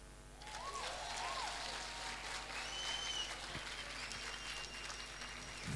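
A rally crowd claps steadily and evenly for several seconds, a dense wash of applause at the close of a campaign for the Law Society of Kenya presidency, with a few faint voices mixed in.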